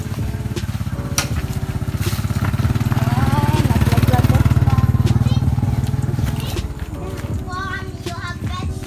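A motorcycle engine rumbles by in a rural provincial yard, a steady low drone swelling to its loudest midway and then easing off, with people talking and calling out over it.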